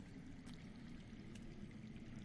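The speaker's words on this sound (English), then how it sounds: "I hear water." Faint water flowing somewhere underground in a video game cave area, a low continuous trickling rush that stays steady and distant throughout, with no talking.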